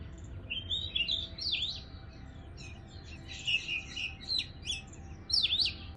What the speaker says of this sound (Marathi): सुंदर माझ्याकडे इथे वर सकाळी-सकाळी मॅकपी रॉबिन इतका गोड गात असतो.